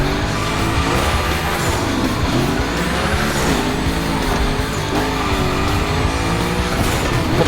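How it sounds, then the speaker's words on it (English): A car drifts through a gymkhana course in The Crew Motorfest racing game, with a loud continuous engine roar and sliding, squealing tires carrying on without a break. "Go slide his line, just follow his tire tracks."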